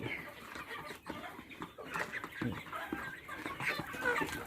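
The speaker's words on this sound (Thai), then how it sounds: "นี่ไก่" A flock of farm chickens clucks and squawks close by, with busy overlapping calls throughout and a few louder bursts against a rustling yard background.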